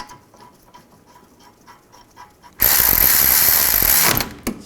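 A ratchet snugs the rear brake caliper bracket bolts on a 1998-2010 Volkswagen Beetle, starting with faint, rapid clicks and then a louder, harsher burst of mechanical noise close by.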